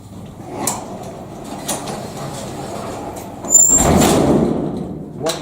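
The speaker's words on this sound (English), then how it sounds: "now we're going to close the door." Garage door being pulled shut over a StormMeister flood seal on the threshold: quiet shuffling, then a sudden loud rumbling slide and thud, with a faint metallic squeal, close to the microphone.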